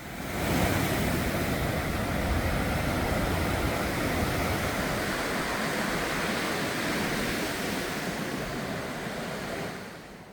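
Strong, heavy waves crash onto a short beach at Uljin on Korea's east coast, a dense, roaring wash of surf that stays loud and steady throughout and eases slightly at the end.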